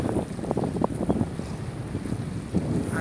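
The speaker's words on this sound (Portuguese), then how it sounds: "Aqui a velocidade do vento está forte, né?" Strong wind buffets the microphone at a large reservoir, the Açude do Bixopá in Limoeiro do Norte, a constant rough roar with gusty low thumps and no voices.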